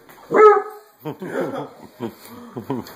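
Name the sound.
dog barking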